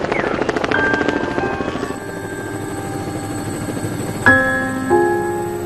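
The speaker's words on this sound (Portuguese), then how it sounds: "testemunhas veem um helicóptero emergir das nuvens e atingir o solo" A helicopter flies over hills near Calabasas in cloudy weather, a steady whirring drone that stays fairly loud throughout, joined by sustained ringing tones that swell near the end.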